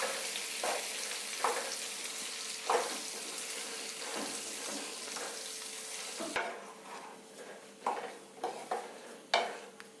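Amla pickle cooking in a pan with turmeric and coriander powder, a steady broadband frying sizzle broken by repeated scraping clinks of a spoon stirring, louder knocks near the end, with no talking.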